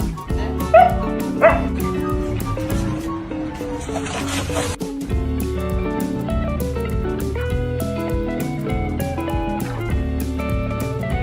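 A big dog yips and whimpers in short bursts near a baby, the sounds rising over a continuous bed of loud music.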